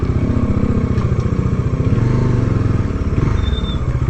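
Kawasaki Dominar UG2 motorcycle riding at a steady cruise, a loud continuous engine drone with throbbing pulses close by, wind and road rumble mixed in, no talking.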